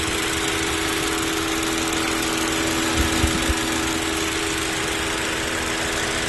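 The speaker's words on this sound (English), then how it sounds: "The engine sounds good." A loud auction car engine with 97,000 miles running steadily with a constant droning hum and a few low knocks partway through, and no talking.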